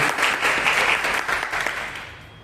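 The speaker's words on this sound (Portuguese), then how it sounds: "Será que você pode aplaudir o Senhor pela vida da Letícia?" A church congregation applauds together in a dense, steady wash of clapping that gradually fades toward the end, with no talking over it.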